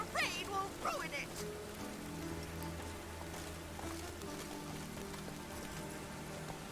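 Steady rain falls in The Witcher 3 as a soft, continuous wash, with a few brief sharper sounds early on and low background tones beneath, moderately quiet throughout.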